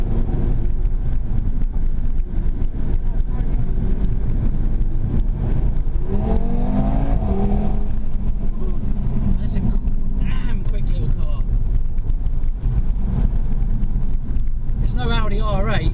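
A 2017 Audi TT RS pulls hard on the road, its engine droning steadily under wind roar. Gear changes and rising revs come through, with someone talking over the whole stretch.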